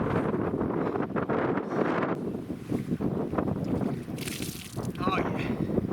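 Strong wind blowing across a microphone outdoors on a wet Texas trapline, a constant loud buffeting roar under a voice.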